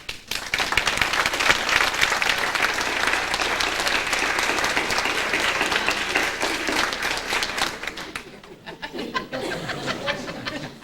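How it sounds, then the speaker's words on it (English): A banquet audience applauds the cooks with steady, fairly close clapping that runs for most of the stretch, dips briefly, then resumes with a few scattered claps and light chuckles near the end. "Cooks, can you come out and let's give you a round of applause?"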